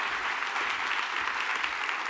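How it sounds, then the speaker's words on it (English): Audience applause at a business improvisation talk, a dense, steady clatter of many hands clapping continuously from start to finish, with no voices standing out. "Big round of applause."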